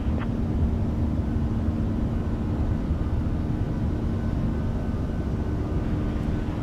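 An iniBuilds A340 airliner takes off in a flight simulator, its steady engine roar holding at a constant level with a low tonal hum throughout and no talk.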